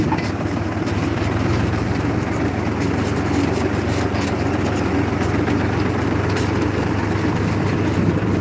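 A loud, steady Ford tractor engine rumble drones throughout without pause, close and constant, in a village.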